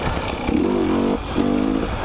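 A 2020 dirt bike on Utah single track, its engine revving in two rising, buzzing bursts with a rough, loud roar close by.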